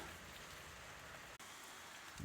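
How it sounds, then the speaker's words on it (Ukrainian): Rain falling outdoors beside a Renault Master van, a steady soft patter of drops on surfaces, faint and continuous with a brief break, no talking. "як на зло дощ почався"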